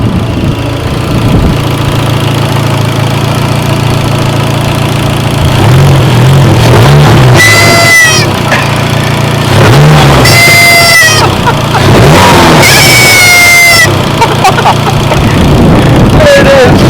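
Car engine idling and revving while its blow-off valve lets out high, warbling animal-call-like whistles in several bursts over a steady engine drone.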